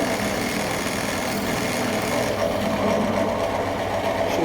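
A Scheppach DP16VLS benchtop drill press with a large bit fitted, driven down into a workpiece at hobby scale: a loud, continuous motor whine and cutting hum that stays steady and close, with no talking.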